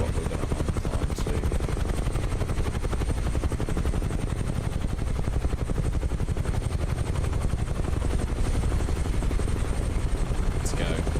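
A Cessna 172 piston engine drones steadily in Microsoft Flight Simulator, a constant loud buzzing throb filling the whole stretch, with voices talking over it.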